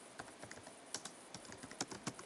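Rapid, uneven clicks of a computer keyboard as someone types a code comment in Xcode, close and crisp, with short bursts and brief pauses between keystrokes and no talk.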